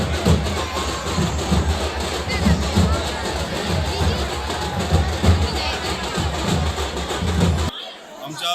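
A large crowd of devotees murmurs and cheers at the Adishti Devi temple's Shimga festival in Lanja, held on Rangpanchami with palanquin processions; dense steady hubbub with soft rhythmic low thumps, ending abruptly.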